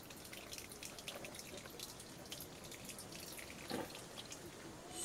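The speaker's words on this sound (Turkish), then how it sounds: "Bakın her taraftan su damlıyor." Water drips inside a cheap A101 camping tent during a water test, a faint, dense patter of drops with a few louder plinks near the end, no speech.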